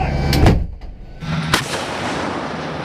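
An M109 Paladin self-propelled howitzer fires a round: a loud, deep boom followed by a second sharp report and a long rumbling decay, with no talking.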